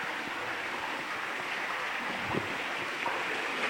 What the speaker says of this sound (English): There's Little Minnehaha Falls